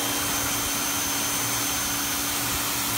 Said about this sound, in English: Let it sit for 10 minutes and then I'll do a little pressure washer.